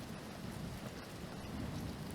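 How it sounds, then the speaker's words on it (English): Steady rain with a low rumbling roll of thunder running underneath, a continuous dense wash of sound throughout, with no voices. "Thunder punctuated the sentence, rolling over the badlands like a revelatory wave."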